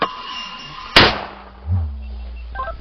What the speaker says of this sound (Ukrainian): Це малий постріл.